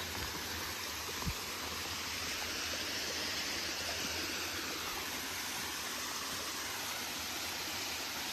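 A stream flows steadily through the night, broadband rushing water filling the whole stretch at an even, continuous level with one brief low knock early on.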